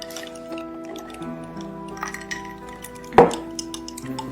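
Glasses clink once in a toast, a single sharp, bright chime with a ringing tail, close and loud, preceded by faint drips and light tinkling of glassware.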